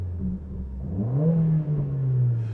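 A Mercedes AMG engine in race mode revs as the throttle is tapped, a short mid-pitched rise and hold in engine tone heard close from inside the car, with no talk.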